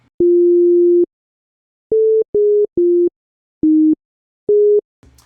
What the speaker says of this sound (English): now we've just got a blank toxic patch, which is just going to play us a sine wave